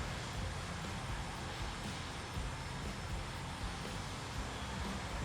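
A Sukhoi Su-33 fighter's jet engine runs in Arma Reforger, a constant broad roaring whine with deep rumble underneath, steady and sustained with no talk.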